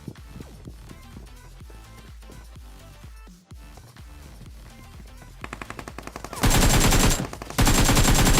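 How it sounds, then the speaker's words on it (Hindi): Automatic gunfire from a battle royale video game crackles in rapid bursts over a steady game backdrop, growing into loud, dense sustained firing toward the end with a brief pause between volleys. "फायरिंग की साउंड आ रही थी"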